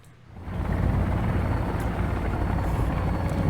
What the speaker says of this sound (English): I see a helicopter, brother.